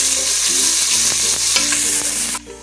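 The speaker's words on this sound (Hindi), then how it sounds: "अब ऑयल में हम प्याज को अच्छी तरह फ्राई कर लेंगे।" Onions frying in about half a cup of oil in a cooker, a loud continuous sizzle with stirring scrapes, dropping off abruptly near the end.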